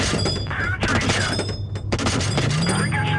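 Heavy cannon fire and explosions in a tank video game battle, dense overlapping blasts and thuds close by, with someone talking over the action.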